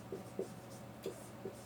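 A pen writing a line during a chemistry lesson on reaction rates, with a few faint, soft scratches of the nib spaced apart against quiet room noise.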